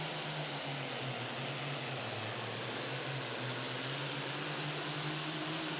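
Engine of a mini rod pulling tractor roars steadily at a professional tractor pull, a loud continuous drone with a strong low hum holding throughout the run.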